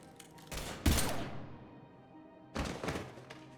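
Gunfire in the Mass Effect 3 video game: a heavy thudding shot is followed by a fading echo, then a second burst of shots near the end.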